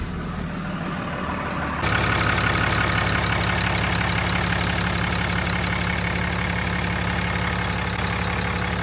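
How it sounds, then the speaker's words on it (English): A 6.7 diesel truck engine cranks and catches about two seconds in, then settles into a loud, steady, clattering idle heard up close with no talk over it. "we're gonna start the truck so you can hear and see what it looks like."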